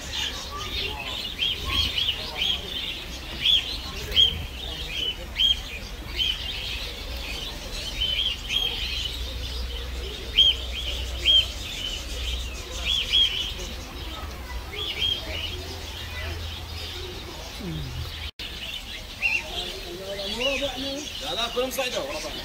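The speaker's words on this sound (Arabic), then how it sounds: "كان جميل تعجب أصوات عصافير" Sparrows in Medina, coming to feed from a hand, chirp in quick, repeated bursts over a murmuring background, with faint voices and birdsong carrying through the whole stretch.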